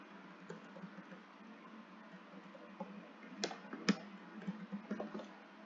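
Soft clicking of computer keyboard keys while someone types JavaScript code, a steady faint patter of keystrokes with a few sharper taps near the middle, heard close and alone.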